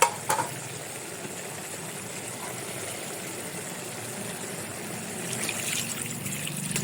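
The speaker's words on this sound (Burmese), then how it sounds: "မြစ်ချင်နေမြုပ်သွားတဲ့အထိရေထည့်ပြီးတော့တက်ပေးထားလိုက်ပါတယ်ရှင်" Water pours steadily into a cooking pot of pickled bamboo shoot soup, a continuous soft trickle after a brief knock at the start.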